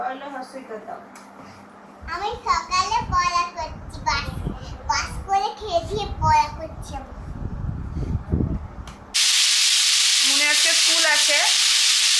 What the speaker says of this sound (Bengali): একটু ওই পেঁয়াজ লঙ্কা দিয়ে একটু নেড়ে নিচ্ছি